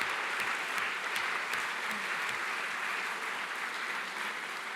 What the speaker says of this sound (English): So it's an applause for you